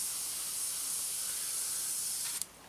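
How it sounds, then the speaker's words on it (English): Airbrush spraying black paint onto a Tamiya 1/48 Spitfire Mk.1 model, a steady bright hiss held close for over two seconds before cutting off with a small click, no talk. "we've got some black spraying through, just like that"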